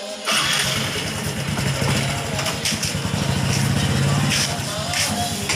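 A new three-wheeled taxi's engine starts and settles into a steady, loud, close rumble that continues throughout, with faint voices in the background.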